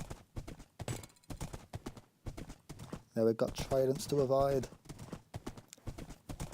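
Horse hooves pound in a fast gallop during a video game horse race, a steady drumming rhythm running beneath a commentator who talks almost throughout.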